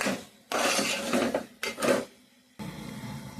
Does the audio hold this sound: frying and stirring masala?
yes